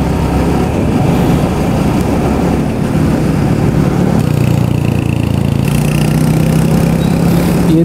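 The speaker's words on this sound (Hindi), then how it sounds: "ये देख सकते हैं अपना खूंखार बापी जा रहा है बाइक को घूम घूम करके" Royal Enfield Hunter 350 motorcycle engine running steadily nearby with a low rumbling drone, rising slightly in pitch as the bike pulls away and turns.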